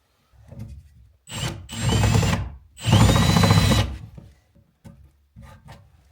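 A power drill bores a hole in wood at an off-grid cabin build, with two long loud whining bursts that strain as the bit cuts, between softer short blips and quiet pauses.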